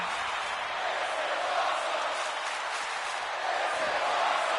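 Cheering crowd in a wrestling video game during a hardcore match, a steady roar of massed voices holding level throughout with no single voice standing out.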